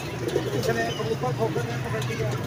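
A gathered flock of pigeons of several colours coos in soft, repeated, throaty phrases near by, steady throughout, with people talking faintly.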